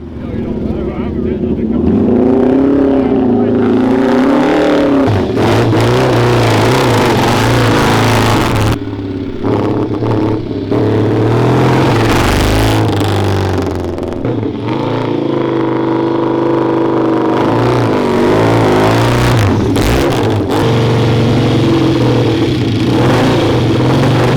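A loud Honda RC374 replica racing motorcycle engine revs hard and steadily on a track, climbing and dropping in pitch as it accelerates, close and continuous.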